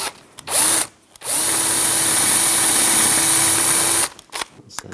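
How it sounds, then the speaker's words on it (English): A power drill drills out a rivet on a Volkswagen Beetle door, whirring steadily for several seconds after a brief burst, then stops, with a few clicks and handling noises at the end. "You're gonna use a drill and drill out this rivet right here"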